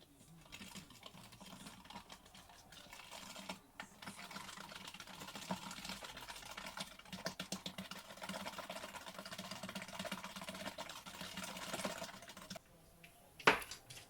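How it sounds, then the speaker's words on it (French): Eggs and sugar are whisked together for an apple cinnamon cake, making a faint, fast run of rhythmic clicking and scraping in a bowl, followed by a brief sharp knock near the end. "on va fouetter le tout"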